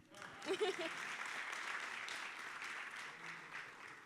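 Applause from the audience at a hospitality leadership event, a steady, fairly faint wash of clapping that holds evenly throughout with no voices rising above it.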